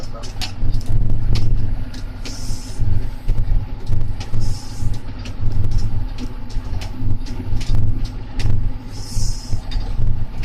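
A tractor engine labours in third gear while driving, a loud rumbling drone that surges and dips unevenly, with occasional rattles and hisses over it.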